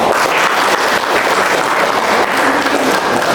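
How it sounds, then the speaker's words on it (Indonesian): A crowd at an anniversary consolidation rally of the KSPSI labour union in Cikokol, Tangerang, claps in loud, continuous applause that stays dense and even, close to the listener. "tepuk tangan"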